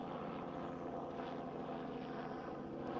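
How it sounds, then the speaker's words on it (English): A low, continuous engine drone rumbles steadily throughout, faint and distant like a propeller plane passing overhead, an airplane flying into Watsonville airport over a golf course. "Sounds like we got some airplanes flying into the Watsonville airport over you"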